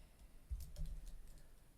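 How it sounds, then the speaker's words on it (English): A computer keyboard is being typed on in a few short, soft taps close by, in a quiet room. "I'm gonna try typing in adi."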